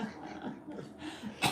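A dog gives low, rumbling growls in short uneven bursts, fairly faint and close, ending with a sharp noise.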